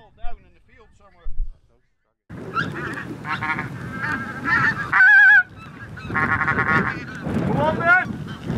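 Geese on a goose decoying trip in Scotland honk in a loud, busy chorus of repeated nasal calls, some close and some further off, with people talking over them.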